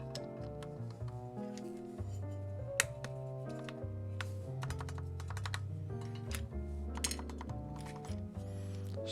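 Typing on a custom-built KFA Course60 mechanical keyboard with a POM plate, a steady run of close, crisp key clacks with occasional louder strikes, heard alone without talking.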